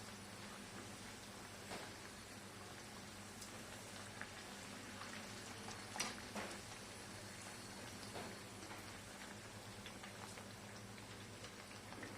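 Gujarati matki dal mathiya frying in hot oil on a low flame, a soft continuous bubbling sizzle with scattered small pops, faint and steady, with no voices.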